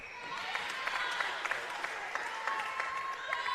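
Hawks fans applaud at a netball semi-final between Central Coast Heart and ERNA Hawks, a faint, distant patter of clapping with scattered sharper claps over the whole stretch.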